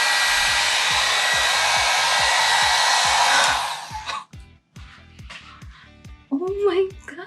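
A hair dryer used with a blowout brush to style thin hair roars steadily and loudly for about three and a half seconds, then cuts off, leaving faint handling noises and a brief burst of speech near the end.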